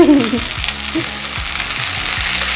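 Fish pieces for a homemade disco fish fry sizzling in hot oil, a loud, continuous close-up frying hiss with a few soft clicks of the pan.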